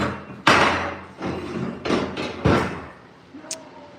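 A welded metal seat bracket being flipped over on a workbench, several loud clanking thuds and knocks of metal against metal, close, followed by a short faint ring.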